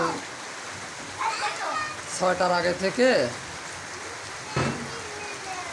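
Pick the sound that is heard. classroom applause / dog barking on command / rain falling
rain falling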